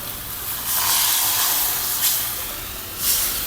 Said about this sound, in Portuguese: Eu vou deglaciar esse fundinho da panela com vinho tinto.